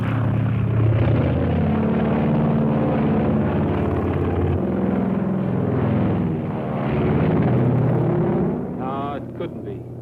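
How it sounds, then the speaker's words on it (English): A propeller plane drones steadily overhead in a Western ranch setting, a loud continuous engine roar that swells and eases, with a voice briefly heard near the end. "I never saw that plane before."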